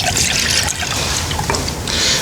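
Milk pouring into a pan, about 400 ml, a steady close liquid trickle and splash running continuously and fairly loud, with no talking.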